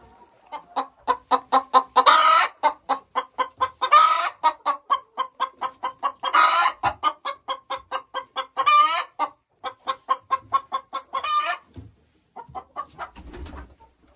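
Chickens in a henhouse, a black hen among them, cluck close by in a steady, rapid run of short repeated notes, broken every few seconds by louder drawn-out squawks, with no talking.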